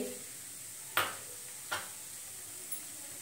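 Potato bhaji with chopped coriander being stirred in a pan: three brief, soft spatula scrapes spaced about a second apart over a faint, steady hiss.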